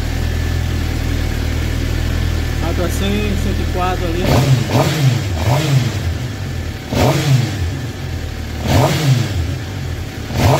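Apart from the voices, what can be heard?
Suzuki GSXR750 motorcycle engine idling and revving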